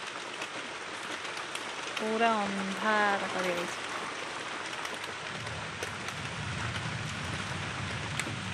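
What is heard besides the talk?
heavy rain falling in a village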